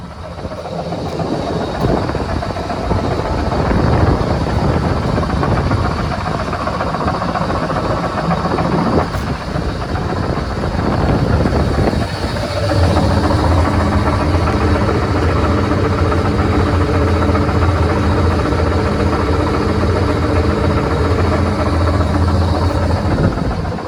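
A 25 hp industrial exhaust fan under a factory hood runs loud and steady, a continuous heavy mechanical drone with a deep hum that shifts into a tonal whine partway through.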